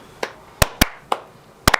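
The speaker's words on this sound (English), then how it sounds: "Let's give a nice slow clap to Jeff Koff." A handful of sharp, separate hand claps at an uneven, slow pace, loud and close, ending with a quick double clap.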